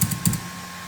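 Several quick keystrokes on a computer keyboard during AutoCAD drafting work, close and clear, in two short pairs of taps followed by a steady faint hum.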